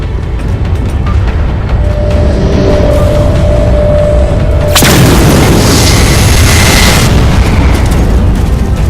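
A sudden heavy blast strikes the Mammoth vehicle in Halo 4, a loud boom with a long roaring rumble and debris wash trailing off behind it, following a rising tone.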